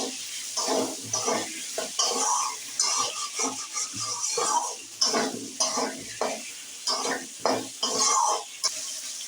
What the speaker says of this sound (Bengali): সামান্য পরিমাণ নুন ও হলুদ আলুর মধ্যে দিয়ে আলুগুলো ভেজে নিচ্ছি।